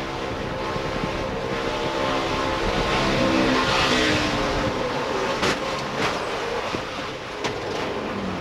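NASCAR race truck engine roaring loudly and continuously on track, the driver blipping the throttle, with the sustained rumble of a pack of trucks close by and no talk.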